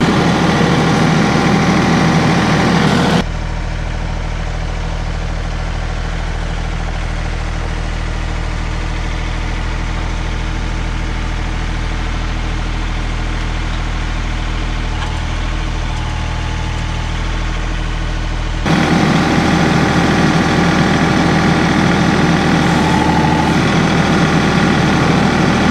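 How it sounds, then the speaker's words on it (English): A compact tractor engine idling steadily at a firewood processing site, a low constant drone throughout, with a quieter muffled stretch in the middle as the tractor turns around. "So I'm gonna get the tractor turned around here and we'll see what we can do with this thing."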